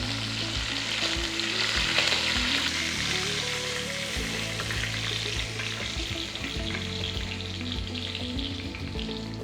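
Chicken frying in oil on a high flame, a dense continuous sizzle and crackle filling the whole stretch, with low hum underneath and no voices.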